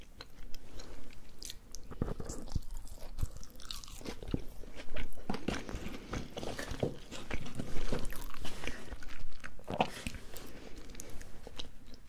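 McDonald's potato wedges being bitten and chewed close to the mic, with dense, continuous wet crunching and mastication throughout and no talking.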